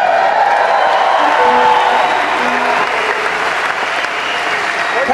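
A big crowd at a Bruce Hornsby and the Noisemakers concert applauds loudly and steadily, with scattered cheers and whoops mixed into the dense clapping throughout.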